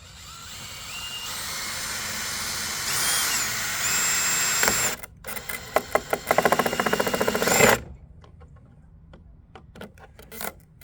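A drill bores through the plastic of an Isuzu Trooper taillight, first whining steadily, then rising in pitch, then chattering in rapid bursts before it stops, leaving a few faint clicks.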